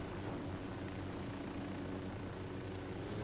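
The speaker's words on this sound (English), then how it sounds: "Fucking helicopters." A helicopter in Ghost Recon Wildlands drones on in a low, steady rotor-and-engine hum, faint and distant, with no break over the few seconds.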